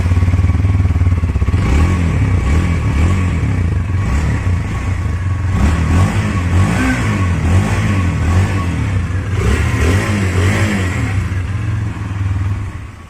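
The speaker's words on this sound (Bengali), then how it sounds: "তো চলুন আমরা সবাই এর এক্সস্ট সাউন্ড একবার শুনে নিই।" A Hero Xtreme 160R 4V motorcycle idling and revving through its race-tuned exhaust, loud and close, with a low steady thrum rising in several throttle blips before settling back down.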